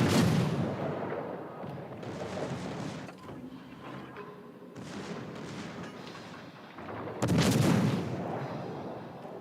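Battleship guns fire in the naval game World of Warships: Legends. Heavy booming salvos rumble continuously against a dense game soundscape, with a particularly loud blast near the end.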